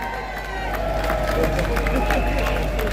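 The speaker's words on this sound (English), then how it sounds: "give yourselves a round of applause for that." A rally crowd claps and cheers with a sustained, fairly loud roar of applause and voices, mixed with indistinct crowd chatter.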